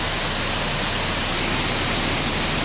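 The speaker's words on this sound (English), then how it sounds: "Here we are at the creek, Salmon Creek, in Juneau, Alaska, having a good time." Water rushing in Salmon Creek near Juneau, Alaska, a loud, steady, broadband roar of flowing stream water with no pauses and no voices.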